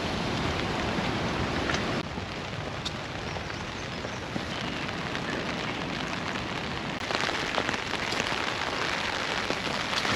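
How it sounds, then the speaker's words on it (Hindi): Heavy rain pours steadily on the trail during the Rudranath trek in the Himalayan Panch Kedar region, a dense, loud, continuous hiss of drops hitting surfaces close by, with no voices over it. "बहुत ही ज़्यादा बारिश है।"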